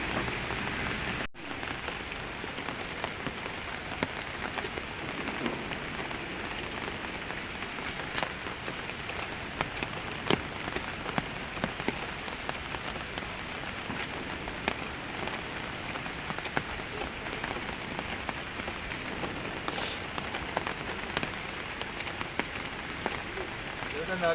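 Steady rain falls throughout on an outdoor scene, a dense, even patter close by with no breaks, and faint voices or other sounds now and then beneath it.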